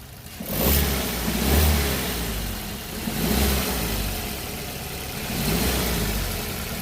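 Engine of a used six-seat Maruti XL6 in showroom condition revs in several swelling surges over a steady idle, heard close and alone with no talking.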